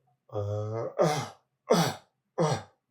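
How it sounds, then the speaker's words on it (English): A voiced throat sound followed by three short, sharp coughs, evenly spaced and close by. "I want you to try and cough"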